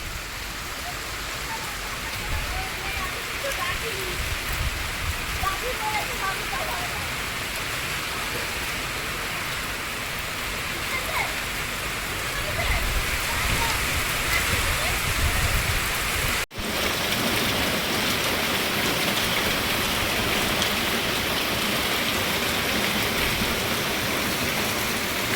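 A sudden heavy downpour with gusting wind drums steadily on nearby surfaces, a dense roar of rain that swells slightly in the middle and continues unbroken to the end.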